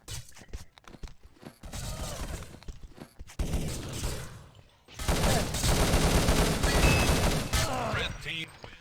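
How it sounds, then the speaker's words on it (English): Rapid gunfire crackles through a competitive video game match, starting as scattered sharp shots and swelling after a brief lull into a sustained, loud barrage of overlapping rounds and clattering impacts. "So, a lot of shots going off."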